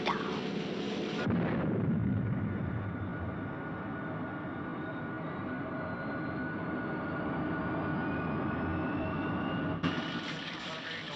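The Thunderbird 2 aircraft launching, a loud sustained engine roar that starts with a sharp surge and holds steady for several seconds before tailing off.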